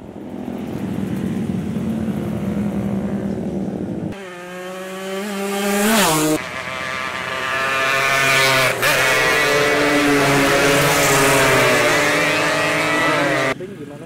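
Motorcycles and cars from illegal street racing rev hard on a public road, engines climbing and falling in pitch through several loud bursts, with speech faintly present.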